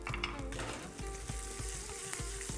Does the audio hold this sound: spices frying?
yes